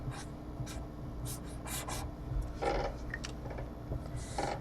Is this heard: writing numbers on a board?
yes